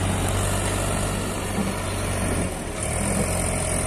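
A New Holland 3602 tractor pulling trolleys during a sugarcane harvest runs at a steady, loud idle-like drone, a continuous low rumble with a constant hum underneath and a brief dip near the end, with no voices.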